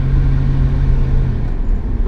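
Cabin rumble from a big, heavy 1973 Jensen Interceptor III saloon slowing under braking, a loud, steady low drone with a humming tone that fades as the car settles toward a stop.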